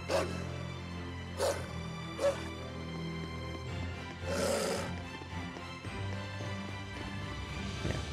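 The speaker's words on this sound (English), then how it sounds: "Oh, that dog." A dog in the role-playing game Tales of Zestiria gives a few separate barks, spaced apart, over soft background music.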